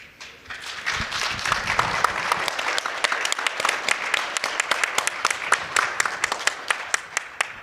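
An audience claps for a panel at an education conference session, dense applause building quickly and holding steady, then thinning into scattered individual claps near the end.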